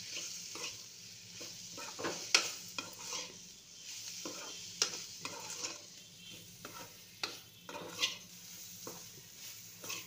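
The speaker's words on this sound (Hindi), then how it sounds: "मसाले मैंने डाल दिए तो और चलाएंगे" Spices and fried onions being stirred in a pan, a soft sizzle with repeated scraping strokes of the spoon against the pan at an irregular rhythm, quiet and close with no voices.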